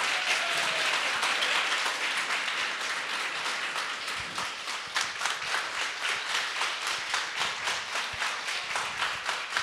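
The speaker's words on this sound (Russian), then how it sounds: "Ваши бурные аплодисменты." Audience applause at a popular-science lecture on the evolution of beauty, a dense, sustained clapping from a packed hall that holds steady for nearly ten seconds and grows slightly more rhythmic toward the end.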